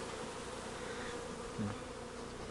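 A honeybee swarm settled on an apple tree produces a steady, dense buzzing hum that stays even throughout. There is one brief soft thud near the middle, and no voices can be heard.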